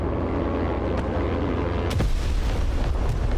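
Heavy bombs dropped by an F-35 blow up in the war video game Broken Arrow, giving a loud, continuous rumbling roar with a sharp blast near the middle that sets off a fresh wave of low booming.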